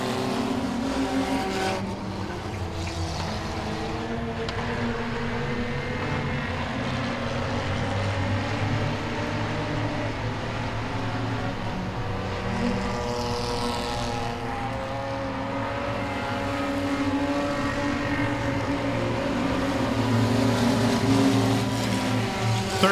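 Race cars roaring through an Enduro race, several engines droning and revving loudly and continuously as the pack circles the track, with passing cars rising and falling in pitch.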